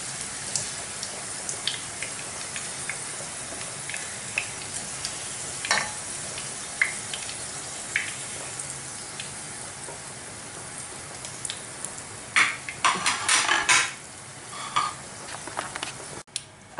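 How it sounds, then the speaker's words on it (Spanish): Potatoes fry in oil in a frying pan, a batch for Valencian oven-baked rice, giving a continuous soft sizzle scattered with sharper pops and crackles, heard alone at moderate level. "una vez que hemos dorado lo que es las patatas, las sacamos y ponemos la otra tanda de patatas"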